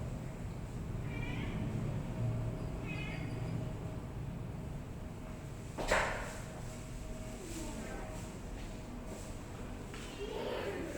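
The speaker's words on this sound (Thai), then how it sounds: "แมว" A domestic cat meows a few times in short, moderately close calls, with a brief knock partway through and faint background voices.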